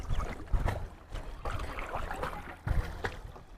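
A boat being rowed on the natural lake at Diabari in Uttara, Dhaka, with oar strokes splashing in uneven bursts against a steady wash of water and light wind, fairly close.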